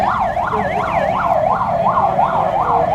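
Police motorcycle sirens wail, sweeping up and down in a fast, repeating cycle, loud and close, with traffic rumble underneath.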